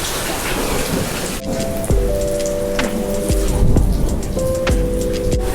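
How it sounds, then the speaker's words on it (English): Heavy, constant rainstorm pouring down in Plovdiv, Bulgaria, with thunder rumbling several times through the steady downpour and lightning nearby; no voices. "This is a really long rainstorm."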